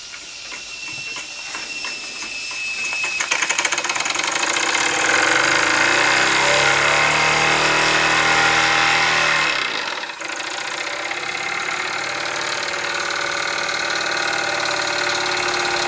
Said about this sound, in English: Not an awful lot wrong with the steam engine when it will run that slow.